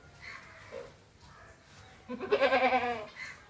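A Beetal cross goat bleats loudly in a quick series of wavering calls after a quiet, faintly noisy stretch.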